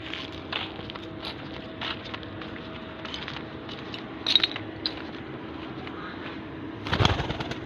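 Domestic pigeons cooing softly in short repeated calls over a faint outdoor background, with occasional light footsteps and a brief burst of wing flapping near the end.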